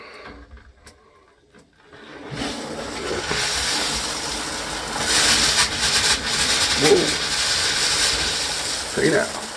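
Water gushes from a Delta single-handle shower faucet just after the supply is turned back on, a steady close hiss and splash building after a quiet start and running continuously with a few small knocks.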